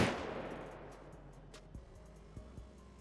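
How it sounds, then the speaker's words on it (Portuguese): Gunshots in the GTA roleplay video game: one loud blast opens with a long decaying echo, followed by a few softer, distant pops. "Tem três tiros"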